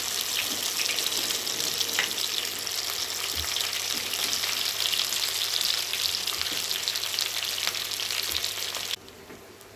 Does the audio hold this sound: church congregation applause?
no